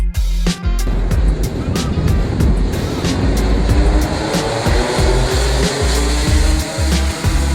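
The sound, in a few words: Rotax 125 Max racing kart engines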